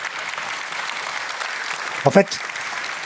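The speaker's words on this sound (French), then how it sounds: "On peut l'applaudir." Audience applause at a French physics lecture by a physicist: a steady wash of clapping runs throughout, with a voice briefly speaking over it near the end.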